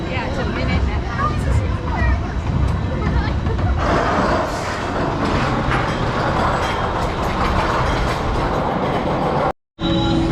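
Yellow Phantom's Revenge roller coaster train rolling and clattering along its track, a steady loud rumble with crowd chatter underneath, cut by a brief silent dropout near the end.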